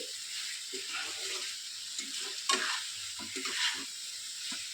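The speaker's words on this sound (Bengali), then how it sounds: "আলুগুলো দিয়ে একটুখানি ভালো করে কষিয়ে নেব" Potatoes frying and being stirred in spice paste in a pan, a steady close sizzle with repeated scraping stirs throughout, no talking.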